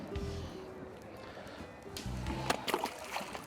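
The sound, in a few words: jewfish released back into the water, splashing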